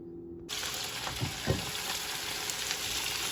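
Sliced onions frying in a pan, cooked apart from the peppers, give a steady broadband sizzle throughout after a quiet start, with a few soft clinks or stirs.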